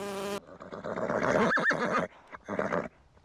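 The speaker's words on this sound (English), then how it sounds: "Foal." A young foal whinnies in a loud, close, quavering neigh that rises and breaks into shorter snorting bursts, following a brief buzzing insect drone at the start, with no talk.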